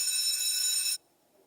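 During a technical conference talk, a phone gives a steady, bright electronic ring that cuts off abruptly, leaving near silence; no one speaks.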